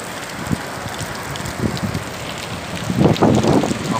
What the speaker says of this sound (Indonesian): hujan lagi. Banjir lagi.